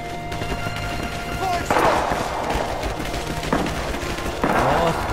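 Gunfire and explosions from the video game Rising Storm, with bursts of shots and heavier booming blasts at intervals over a dense, continuous battle din, while a player talks over it.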